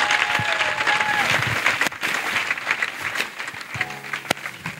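An audience at a national couples' retreat bursts into clapping, a dense, lively applause that rises quickly, then thins and fades toward the end with a few scattered claps.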